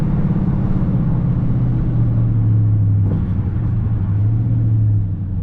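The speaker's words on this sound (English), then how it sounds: "Right now I'm using my paddle shifters, first gear." A Dodge Charger R/T engine accelerates in first gear with paddle shifting during a city drive, heard from inside the cabin as a loud, steady low rumble with a rising drone and a slight dip near the end.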